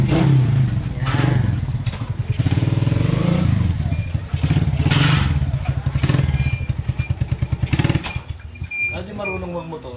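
A motorcycle fitted with a freshly installed three-spring sleeper clutch runs on a test ride, its engine revving loudly and continuously with clattering and thumps, while voices talk over it.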